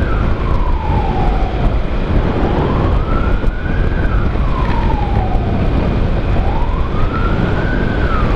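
An ambulance siren wails loudly and continuously, sweeping slowly up and down in long cycles over steady road and engine noise, heard up close from the ambulance carrying a COVID-19 patient from Tasikmalaya to Bandung.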